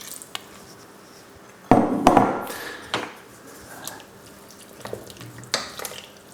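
Milk poured into a pot of leek and potato soup, a close splashing gush that tapers off, with scattered clanks of pot and utensil around it.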